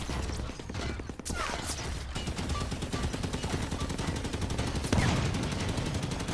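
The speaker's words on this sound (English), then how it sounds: "Oh my god, they're all shooting at me." Gunfire from many shooters during a massive-scale battalion training exercise: rapid overlapping bursts of automatic fire with scattered single shots, continuous and dense for several seconds, with a heavier burst near the end.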